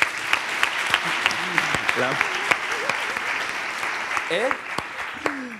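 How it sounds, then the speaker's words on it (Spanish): A steady round of audience applause for María fills an interview event, continuing evenly with voices talking over it throughout. "Un aplauso para María, por favor."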